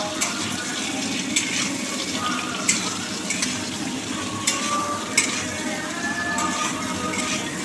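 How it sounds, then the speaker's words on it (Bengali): Potato pieces frying in oil in a wok for a cauliflower curry, giving a steady, moderate sizzle with a few sharper clinks and scrapes of stirring, no voices over it. "কড়াই তেল দিয়ে দেব, দিয়ে আলুগুলো ভেজে নেব।"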